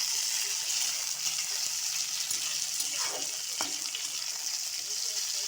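Cauliflower, potato and tomato sizzle steadily in a hot frying pan, a constant hiss of frying with a couple of soft stirring knocks.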